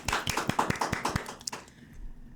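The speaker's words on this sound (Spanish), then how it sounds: "un nuevo segmento, un aplauso." A handful of people clap for about a second and a half in sparse, uneven, fairly close claps that trail off into near silence.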